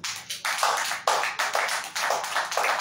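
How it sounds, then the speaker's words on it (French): An audience applauds at an official launch event in Lubumbashi, a dense, loud burst of clapping that swells in repeated waves. "Acclamez encore pour vous-même."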